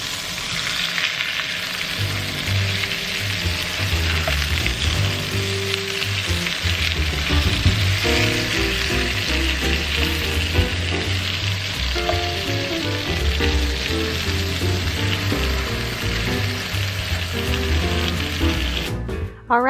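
Meat frying in a pan, a steady loud sizzle with crackling and occasional stirring, and a voice talking now and then over it.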